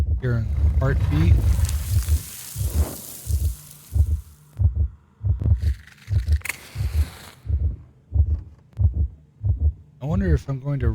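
Heavy double-thump heartbeat pulsing steadily in the horror video game One Eyed Likho, close and prominent, with some noisy ambient texture and brief other sounds over the early part.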